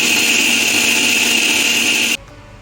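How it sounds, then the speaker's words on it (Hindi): An electric mixer grinder runs loud and steady while grinding raw mango for chutney, a continuous high whine that cuts off abruptly near the end, leaving quiet. "अभी इनको सबको साथ में ग्राइंड कर लेंगे।"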